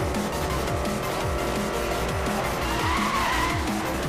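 A Chevrolet Camaro ZL1 drifts in Need for Speed: Most Wanted (2012), loud sustained tire squeal over a revving engine with repeated gear-shift pulses, no talk.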